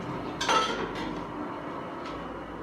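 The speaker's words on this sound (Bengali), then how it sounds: "আর এই হচ্ছে এখানকার কিচেন এরিয়া, এই যে দেখতে পাচ্ছেন এখানে রান্না বান্না চলছে।" Cooking in a hotel kitchen in Gangtok near MG Marg: a few faint, scattered clinks and taps of pots and utensils sound over a low, quiet background hum.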